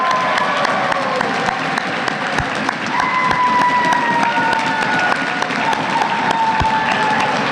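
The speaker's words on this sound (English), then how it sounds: "Let's have one more round of applause for everyone's decisions." A crowd at a college decision-day gathering applauds and cheers, a sustained wash of clapping with whoops and shouts layered over it.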